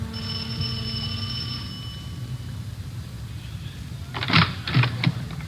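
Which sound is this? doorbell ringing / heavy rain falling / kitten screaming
doorbell ringing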